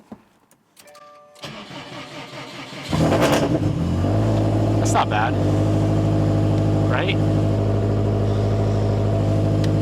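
The ethanol-fuelled engine of a Mitsubishi Evo cranks briefly, catches with a loud rev, and settles into a steady, rumbling idle close by, while a voice speaks briefly early on.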